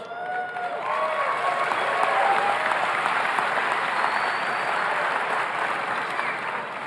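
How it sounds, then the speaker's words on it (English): Sustained audience applause fills a large hall during an NFL Hall of Fame induction speech, a dense steady roar of many hands that swells early and holds loud throughout, with faint whistles over the top. "They deserve a round of applause."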